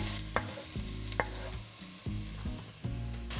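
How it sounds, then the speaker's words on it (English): Onion frying in three tablespoons of oil in a pot on medium-high heat for pork vindaloo, a loud close sizzle broken by rhythmic scraping strokes of a spoon. "We'll need 3 tablespoons oil. Onion goes in."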